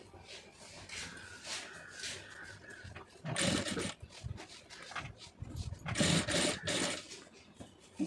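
A sewing machine stitches piping in short bursts, its rapid whirring needle running for a second or so at a time between pauses, with faint background sounds and low voices.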